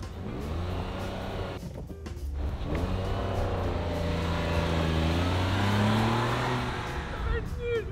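A car accelerating on a track in a 50 km/h challenge, its engine note rising steadily through the gears as the pitch climbs, fairly close and continuous over eight seconds, with a brief dip near the two-second mark.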